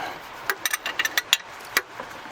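An open-end wrench loosens a nut on the water pump of an Iveco Daily 35-8 with a SOFIM 8140 engine, giving a quick run of about a dozen sharp metallic clicks and ticks, close and fairly loud.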